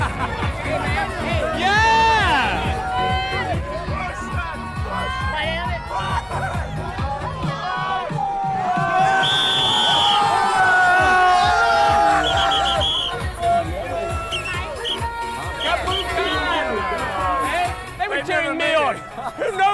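Party crowd in Koh Phangan, Thailand, cheering and whooping around an arm-wrestling match, with dense chatter and rising shouts swelling in the middle and fading toward the end, loud and close.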